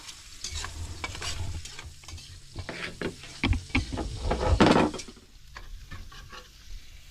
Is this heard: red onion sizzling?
yes